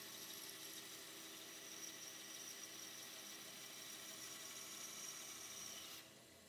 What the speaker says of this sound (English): So I put the insert in and then drill through that hole in the center.